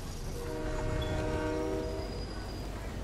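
A train in a video game rolls along with a steady rumble while a horn-like tone sounds and slowly fades, loud and continuous throughout.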